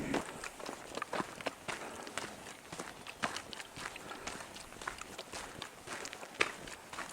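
Steady footsteps walking on a hard path through a quiet Nepali mountain village near Dhampus, a continuous even rhythm of close steps in an otherwise quiet outdoor setting.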